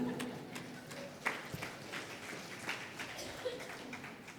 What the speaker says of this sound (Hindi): ये तालियां समर्थन में है क्या सेठ जी के?